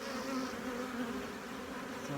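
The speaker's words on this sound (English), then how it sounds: "I'm looking at 10 frames of bees up here" Honey bees in a hive hum in a dense, continuous buzz, close and steady throughout, with no other sounds over it.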